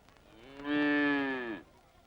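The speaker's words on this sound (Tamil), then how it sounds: "மாடு வேணா நல்லா தான் இருக்குது." A cow at a village cattle market gives one long, loud moo lasting about a second, with quiet surroundings before and after.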